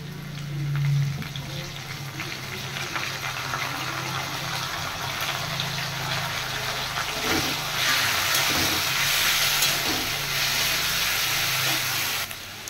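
Garlic and ginger paste hitting fried potatoes in a hot pan gives a steady, fairly loud broadband sizzle and hiss that runs throughout, swelling slightly midway, with no talking.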